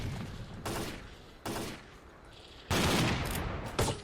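Gunfire in S.T.A.L.K.E.R.: Clear Sky, with slug shotgun rounds in play: loud, close bursts of shots with a long heavy volley near the end, no talking.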